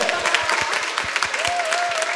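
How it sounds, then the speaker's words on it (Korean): A church congregation at a Christmas Eve worship service breaks into brisk applause, many hands clapping together at close range with crowd murmur mixed in. "우리 하나님께 영광의 박수 한번 올려드릴까요?"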